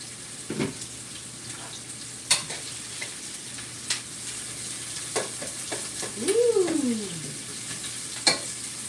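Garlic and onion fry in a pot while susumba beans are being cooked, giving a steady sizzle broken by scattered clinks and scrapes of stirring, with no talking.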